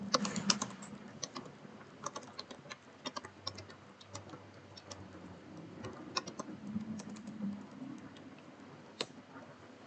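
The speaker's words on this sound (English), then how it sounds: "So I have to type" Someone types on a computer keyboard, a close, quiet and irregular patter of key clicks that runs steadily with short pauses.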